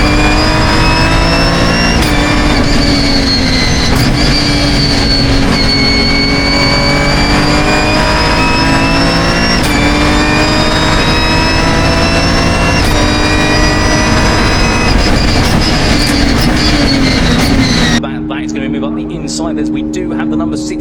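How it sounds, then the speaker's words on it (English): Race cars in a Britcar Endurance race at Snetterton roar down the start-finish straight, a loud, sustained blend of high-revving engines with rising pitch sweeps as cars pass close by, ending abruptly near the close. "It is time to go green flag racing as they roar the way down the start finish straight"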